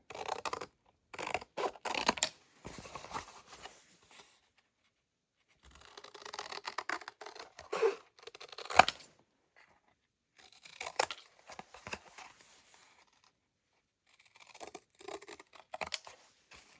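Scissors snipping along marked lines in a flattened spaghetti box of thin cardboard, in several close bursts of short crisp cuts separated by pauses.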